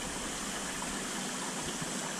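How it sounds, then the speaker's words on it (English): Water rushes steadily into a fish tank during a water change, a constant broadband gushing that stays even and close throughout. "So I upped the water flow, water change"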